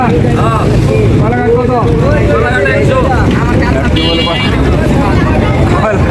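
A boat's motor hums over wind buffeting the microphone on the Buriganga river in Dhaka in the evening, with people talking close by throughout.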